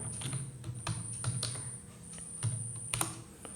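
A computer keyboard clacks with a quiet, irregular run of keystrokes close by, over faint background hiss and with no voices.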